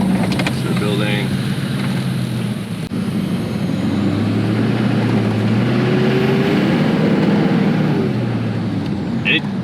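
A Chevy Suburban with a stock Duramax diesel engine drives along, a steady low engine drone and road rumble heard from inside the vehicle, with a shifting pitch midway.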